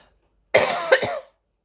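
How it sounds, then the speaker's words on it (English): A single close cough, a quick double burst with a rough, throaty edge, surrounded by silence. "my cough is obviously telling me enough talking."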